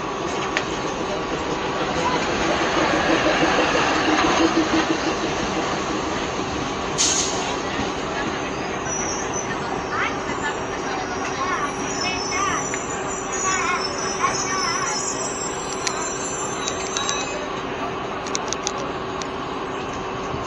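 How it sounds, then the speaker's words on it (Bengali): A DEMU train from Siliguri rolls past at a crossing on a North Bengal local line, a steady rumble with faint rail clatter heard from aboard a waiting train, while a voice talks over it. "শিলিগুড়ি থেকে আসছে ট্রেনটি,"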